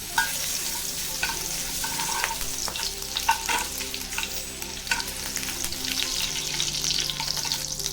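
Chopped garlic sizzling in three tablespoons of hot white oil in a pan, a steady close frying hiss with light stirring scrapes, no voices.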